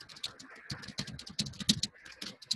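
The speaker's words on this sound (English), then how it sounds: "We can hear you typing." Computer keyboard typing picked up over an online meeting call, quick irregular key clicks in bursts, close and moderately faint with no voices over it.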